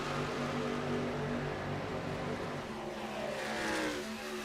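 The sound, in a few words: racing truck engines at Michigan, from a racing video game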